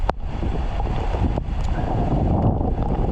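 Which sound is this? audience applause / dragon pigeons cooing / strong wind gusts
strong wind gusts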